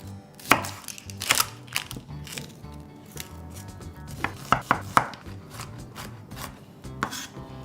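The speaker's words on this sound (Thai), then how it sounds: "ก็เริ่มต้นนะครับผมหอมใหญ่ซอย" A large onion is sliced with a knife on a board, a close series of crisp chopping strikes in uneven rhythm, some louder than others, with no talking.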